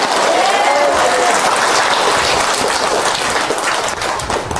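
A seated audience at a Buddhist monk's dharma talk gives a hearty round of clapping. The sound is dense and sustained and eases slightly toward the end.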